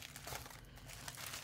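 Packaging around small wooden embellishments crinkles as it is unwrapped, a soft, continuous crackle heard close up with no talk.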